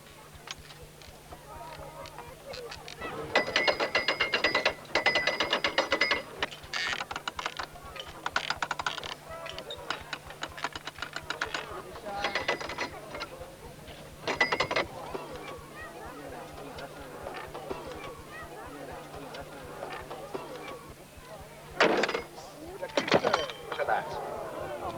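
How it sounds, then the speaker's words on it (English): A Roman-style catapult with flange and sprocket gearing at a historical reenactment fires, giving bursts of rapid clattering, ratcheting mechanism clicks over a low steady hum, with a couple of sharper clunks near the end. "catapulter fires again"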